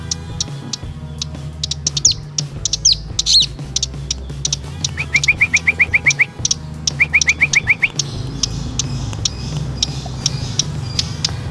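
A caged songbird kept for song training chirps and trills loudly and close, with rapid repeated notes and sharp calls over a constant low background hum.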